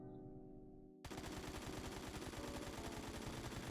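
AKM rifle with a flash hider firing full-auto while aiming down sights in the video game Phantom Forces, a sudden continuous rapid burst of loud gunfire starting after a second of quieter background.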